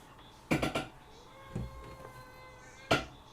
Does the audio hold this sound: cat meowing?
yes